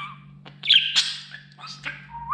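A pet budgerigar gives a short run of close, loud chirps and squawky warbles, bright and rising, over a faint steady background hum.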